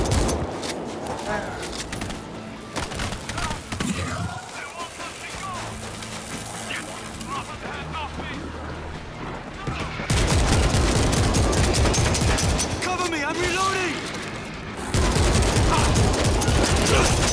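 Gunfire and battle noise in the World War Z: Aftermath video game, a dense, loud barrage of shots and crashes running throughout, with shouted voices mixed in and louder bursts near the end.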